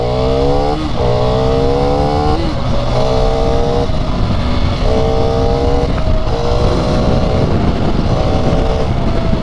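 A KTM Duke 390 Gen 3 motorcycle accelerates hard in track mode, its engine note climbing through several gears in a rising, stepped pattern with brief dips at each shift, loud and close with wind rush throughout.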